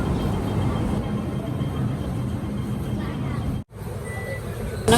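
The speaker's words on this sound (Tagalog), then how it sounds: "Buti na lang eksaktong parating na yung train" Train pulling into a station, a broad, steady rumble and hum of the approaching train with a brief dropout near the end before the noise resumes, no clear speech over it.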